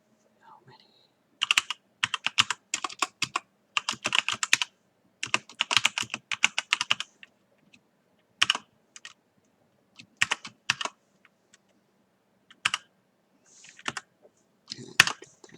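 Keys clatter on a computer keyboard in quick bursts of typing separated by pauses, fairly close and quiet, with the later keystrokes coming more sparsely.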